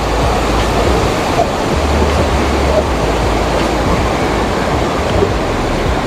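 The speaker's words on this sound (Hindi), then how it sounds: "यही यही पानी ग्लेशियर का निकल के आगे नदी की तरफ जा रहा है" Meltwater from Pasu Glacier in Hunza Valley rushes toward the river, a loud, constant broadband roar of flowing water with steady low rumble and no breaks.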